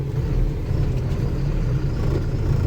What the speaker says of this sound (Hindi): गाड़ी यहीं बैक लगा देता हूँ